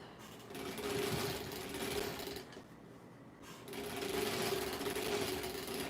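A sewing machine stitches fabric in a steady, close mechanical whir, pausing briefly for about a second in the middle before running again at the same even pace.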